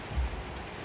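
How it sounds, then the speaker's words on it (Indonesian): Rain in the video game Little Nightmares 2, a soft steady wash of falling rain with a low thud early on, quiet and even throughout. "Ini dari tadi hujan aja anjir. Dari awal game hujan aja."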